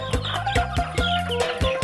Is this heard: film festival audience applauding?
no